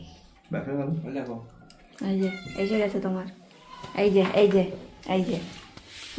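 A cat meows repeatedly at close range, several drawn-out cries in a row with short pauses between them.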